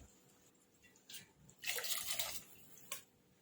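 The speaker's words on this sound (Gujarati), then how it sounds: "હવે એમાં એક ગ્લાસ પાણી એડ કરીશું આપણે" A glass of water is poured into simmering misal gravy of boiled moong and moth beans, a brief close splashing gush after a few quiet trickles, followed by a final small splash.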